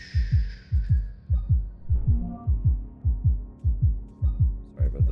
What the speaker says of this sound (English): Sorry about the loud heartbeat